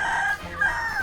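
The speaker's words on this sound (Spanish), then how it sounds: "Gallo." A rooster crows once, a loud, close, drawn-out cock-a-doodle-doo that fills the whole moment with no talking over it.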